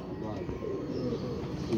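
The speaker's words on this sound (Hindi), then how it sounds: "नए परों पे कबूतर है" Soft pigeon cooing, low and throaty, repeating close by under a quiet background.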